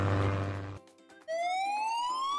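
A police siren wails loudly, a steady tone cutting off before a rising electronic whoop sweeps upward and holds, with no voices.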